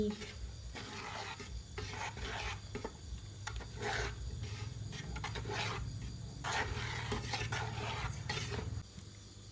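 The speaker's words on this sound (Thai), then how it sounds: "เราจะกวนแบบไม่ละมือนะคะประมาณ 40 นาที" Thick pandan coconut pudding paste stirred continuously in a pan, a steady rasping, scraping rub of the spoon against the pan bottom repeating in uneven strokes, close and moderately loud with no talk.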